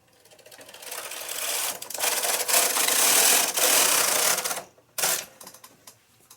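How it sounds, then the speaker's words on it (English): Knitting machine carriage sliding across the needle bed to knit a row, a loud rasping, clattering sweep that builds and runs for about four seconds, then stops and gives a short second burst, close and without talk. "We can take our carriage out of hold and knit"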